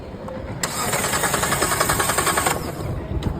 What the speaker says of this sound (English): Okay, now I'm going to crank the engine.